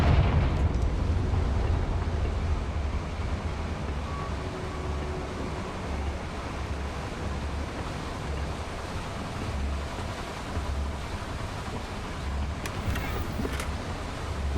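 Confringo blasting spell in Hogwarts Legacy: a sustained, rumbling explosive roar with heavy low-end churn that stays loud throughout, ending in a few sharper crackling bursts near the close.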